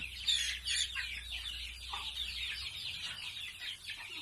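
A flock of month-old native chicks from Ban Haet, Khon Kaen, peep and chirp constantly in a dense, high-pitched chorus, fairly faint and steady.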